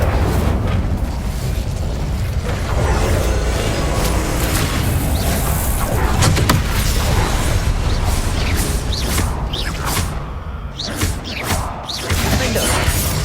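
Incendio fire spell blasts in Hogwarts Legacy, loud booming bursts and crackling impacts in dense, continuous combat, with game effects layered over each other.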